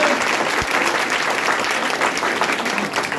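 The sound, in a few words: audience applause at a student felicitation ceremony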